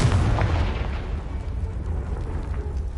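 Confringo blasting spell in Hogwarts Legacy, a loud close rumbling explosion that hits at once and then trails off into a low, rolling boom.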